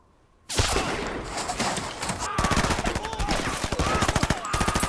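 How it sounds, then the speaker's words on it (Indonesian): Gunfire exchange from a war film, rapid machine-gun and rifle bursts that start abruptly after a brief quiet, then continue loud and dense with rhythmic rattling volleys. "di saat baku tembak terjadi"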